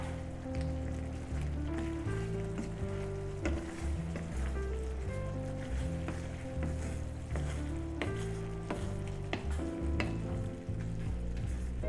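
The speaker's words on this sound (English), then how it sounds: "Now we're gonna add the rest of our ingredients, our sweet peppers and some scallions. Just mix it up." Sweet peppers and scallions are stir-fried with rice cakes in a bulgogi tteokbokki sauce, making a continuous close sizzle and stirring noise under a steady backdrop of tonal background music, with no speech.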